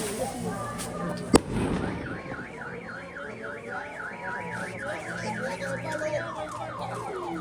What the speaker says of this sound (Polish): to odpalane są petardy